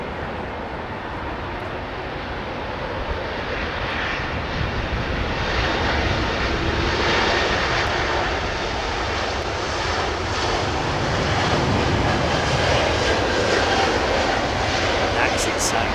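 An E2 jet airliner takes off in the distance, a broad, even roar that swells gradually and stays fairly soft throughout.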